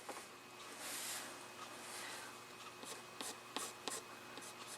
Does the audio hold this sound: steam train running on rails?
no